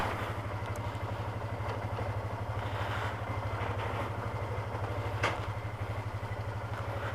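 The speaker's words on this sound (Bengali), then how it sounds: "এতদিন পরও সহজেই গাড়িটি স্টার্ট হয়ে গেল।" A motorcycle engine idles steadily just after starting up, following a long period without use, with a close, even low chugging pulse throughout and a few light clatters over it, no talk.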